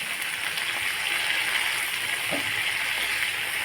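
Mint leaves sauté in hot oil in a pan for mint chutney, giving a steady, close, rain-like sizzle with no talking.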